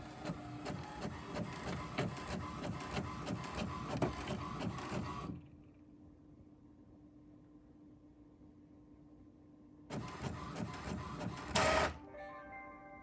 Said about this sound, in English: we're going to print this out.